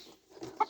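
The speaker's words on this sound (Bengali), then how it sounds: "মুরগিটা ওমান দেশের ওমানি মুরগি আর কি" A large Omani hen gives a short, quiet cluck, one brief close call ending in a sharper note, with no voices.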